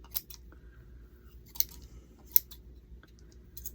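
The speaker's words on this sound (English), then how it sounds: "Scissors, trim this all down." Scissors trimming material on a DIY wooden pumpkin craft with real pumpkin stems, giving a few sharp, separate snips against a quiet background.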